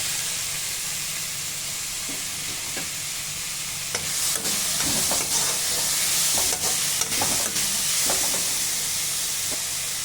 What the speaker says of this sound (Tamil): ரெண்டு தக்காளி கட் பண்ணி வச்சுருக்கேன் சேர்த்துக்கலாம்